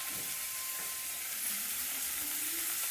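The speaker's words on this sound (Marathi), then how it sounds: "आता डाळ टाकते. चण्याची डाळ शिजवून घेतलेली" Cooked chana dal is tipped into a hot pan of vegetable curry and stirred, a bright continuous sizzle with soft scraping of the spoon underneath, close and steady throughout.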